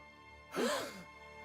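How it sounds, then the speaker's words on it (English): A single short gasp from a character in Xenoblade Chronicles 2, a quick breathy intake standing alone over quiet game ambience. "That was a delayed gasp"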